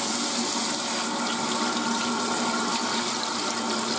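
Tap water pours steadily from a faucet into a sink while hands are rinsed after washing, a loud, close, continuous splashing rush with no voices.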